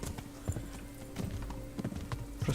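Horse hooves clip-clop in a video game set in a medieval Czech world, a steady run of soft thuds and clacks repeating through the clip under faint background noise.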